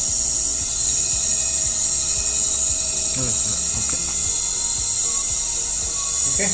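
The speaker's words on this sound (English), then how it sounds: "Now we can lively see the motor rotation also" A 1500 W electric hub motor spinning on a scooter converted from petrol, a steady mechanical whine with a fine ratcheting, clicking texture throughout, close and continuous, with a few brief knocks.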